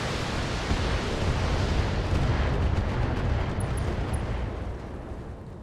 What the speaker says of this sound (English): And in a single volley, completely destroys a turret.